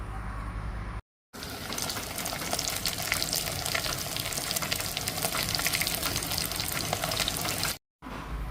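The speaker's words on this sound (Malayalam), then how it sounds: "വെളിച്ചെണ്ണ ചൂടായി വന്നപ്പോൾ ഇങ്ങനെ ഓരോ കഷ്ണങ്ങൾ ഇങ്ങനെ നമ്മൾ ചേർത്ത് കൊടുക്കുകയാണ്" Pieces frying in hot coconut oil, a dense continuous sizzle and crackle, close and fairly loud, steady throughout apart from two brief silent breaks.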